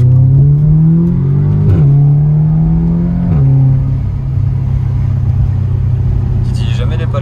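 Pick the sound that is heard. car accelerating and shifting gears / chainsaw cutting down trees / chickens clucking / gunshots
car accelerating and shifting gears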